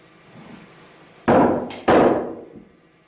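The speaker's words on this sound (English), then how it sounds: "Thank God I have a decent sized hatchet." A decent-sized hatchet used as a hammer strikes wood twice in quick succession, two loud, close thuds about half a second apart, each ringing briefly before fading, with no one talking.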